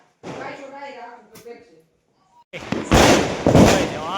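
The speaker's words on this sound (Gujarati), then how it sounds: "હા કેટલા બધા ફટાકડા ઉડી ગયા" Diwali firecrackers go off outdoors: people talk first, then after a short silence a loud burst of crackling, popping explosions erupts close by and keeps rattling on.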